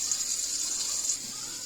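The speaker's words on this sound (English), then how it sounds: "So I'm going to give it a stir and just let them get brown all over." Vegan meatballs from Aldi browning in a frying pan give off a steady, close, even sizzle and hiss that runs unbroken throughout, with no voices.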